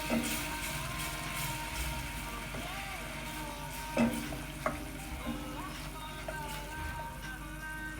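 A spoon stirs butter and flour in a pan for a roux, giving a soft sizzle with scraping strokes and a couple of louder knocks, heard close up while a voice talks quietly now and then.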